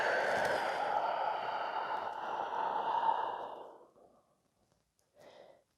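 One long, deep exhaled breath during a breathing exercise pushes out steadily and close, then fades away, and a short, softer breath follows after a pause.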